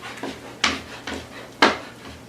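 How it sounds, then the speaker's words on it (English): A knife chops rotisserie chicken on a cutting board, giving four sharp, evenly spaced thuds close by, with quiet room noise between strikes. "I'm just chopping it up. Not quite as small as I did my veggies."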